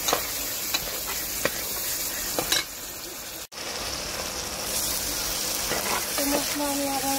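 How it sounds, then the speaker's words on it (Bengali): Spices and yogurt stirred and fried in a pan, a steady close sizzle under scraping stirs and brief clinks, with a short pause midway before the frying hiss returns. "সবগুলো এখন ভালো করে নেড়ে দেবো, নেড়ে কষিয়ে নেবো।"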